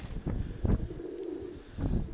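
Mykolaiv pigeons give a soft, low coo drawn out for about a second between muffled rustles and light wind noise close to the microphone.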